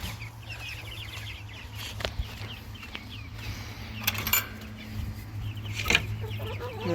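Chickens cluck softly at a distance around a coop, scattered calls over a low steady hum, with a few sharper bursts of activity nearby.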